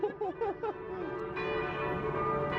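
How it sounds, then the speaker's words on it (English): Church bell ringing at a church in Paris, a steady sustained tolling that swells and holds for a couple of seconds, fairly close and unbroken, with brief bright chimes over it at the start. "This is a church. I can hear the bell."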